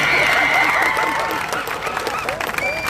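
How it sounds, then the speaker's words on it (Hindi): Crowd at a political rally in Dhulia applauding, a loud sustained clatter of many hands with scattered voices and a speaker's voice threading through it. "जोरदार तालियां बजाओ मंत्री के लिए।"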